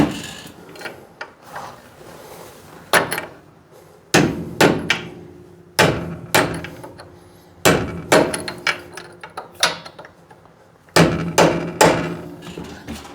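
Metal tapping on a locking tab over a fastener during wheel cylinder brake work on a 1964 Chevy C10 pickup: repeated sharp hammer strikes in short clusters, close and loud, with brief pauses between groups.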